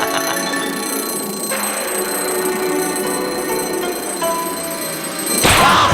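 Alarm clock ringing continuously with a bright metallic bell tone, loud and close, holding steady for several seconds before a sudden clatter at the end.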